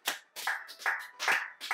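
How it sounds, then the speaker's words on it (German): Applause at a lively gathering: several short bursts of close, bright clapping from a few pairs of hands, each lasting a fraction of a second with brief gaps between them. "Ein Applaus"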